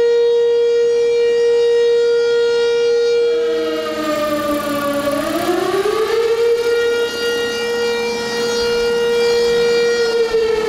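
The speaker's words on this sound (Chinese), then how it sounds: "紧接着，防空警报也立即响遍整个天空。" An air raid siren wails loudly across the sky during the Wan An civil defense drill in Taitung, its tone dipping and rising in a long, sustained howl that fills the whole stretch with no other sound over it.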